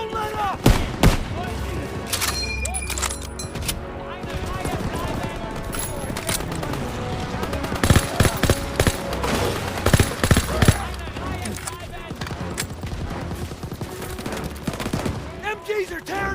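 Sustained machine gun fire from enemy MG positions in the video game Call of Duty WWII on PC, a dense, loud stream of rapid bursts over a battle din, with shouting voices mixed in.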